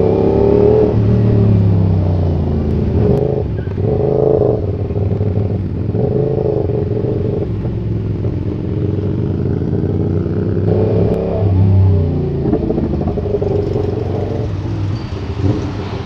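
A C900 motorcycle's engine revs repeatedly in short bursts over a steady idle rumble, close and loud, near a highway toll gate.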